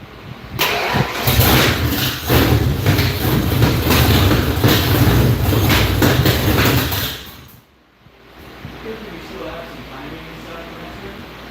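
A 408 cubic-inch stroker V8 in a Fox Body Mustang cranks and fires, roaring loudly and steadily for several seconds before cutting off, then settles into a quieter rough idle.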